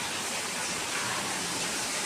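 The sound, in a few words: heavy hail rain pouring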